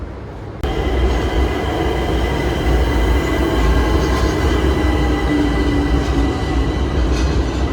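Metro train at a Tehran station, a steady loud rumble of rolling rail cars with a faint wheel squeal, starting abruptly after a short quieter moment and continuing without talk.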